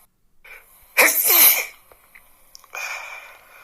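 One loud, sharp sneeze close up, preceded by a quick intake of breath and followed by a softer exhale.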